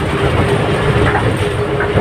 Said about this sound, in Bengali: ওই ট্রেন ওখান থেকে ট্রেন যায়